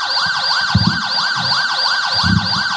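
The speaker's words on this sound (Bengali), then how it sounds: "আপনার পিছনে অ্যাম্বুলেন্সে একজন এমার্জেন্সি পেশেন্ট আছে" An ambulance siren wails in steady repeating sweeps, loud and close, with low traffic rumble underneath and no voices.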